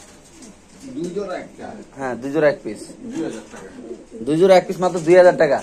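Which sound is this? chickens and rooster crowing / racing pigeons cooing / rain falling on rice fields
racing pigeons cooing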